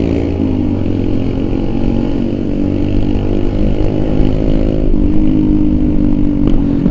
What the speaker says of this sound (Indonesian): Motor nggak pakai knalpot ya.